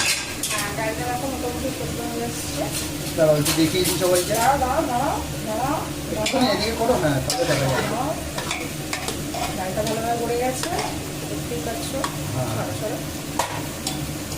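Spice masala being fried and stirred in a pan for dalia khichuri, with steady sizzling and repeated scraping and clinking of a utensil against the pot, while voices talk throughout.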